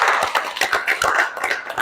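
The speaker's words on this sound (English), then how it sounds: "Give yourselves a round of applause" A small studio panel on a podcast set claps briefly, giving a quick, crisp patter of hands from close by.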